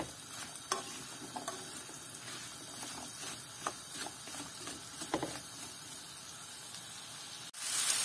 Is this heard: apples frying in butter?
yes